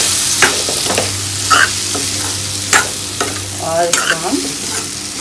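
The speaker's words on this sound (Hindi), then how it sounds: "कुछ सेकंड के लिए भून लेते हैं" Cubed potatoes sizzle loudly in hot oil and masala in a pan while a spoon stirs and scrapes in repeated strokes, close up; a voice speaks briefly over the frying.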